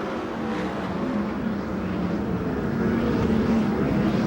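USAC/CRA sprint cars race around the dirt track at Perris, California. Their engines form a continuous distant roar that swells and fades as the pack circles, with no talk over it.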